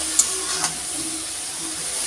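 Nalte jute-leaf greens fry in a generous amount of oil, giving a steady close hiss with two brief ticks near the start and no talking.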